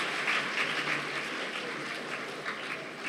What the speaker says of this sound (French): Applaudissez encore une fois de plus.